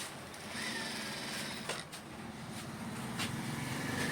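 A sewing machine stitching a shirt runs in a steady, continuous mechanical whir at moderate level, with faint rhythmic clatter throughout.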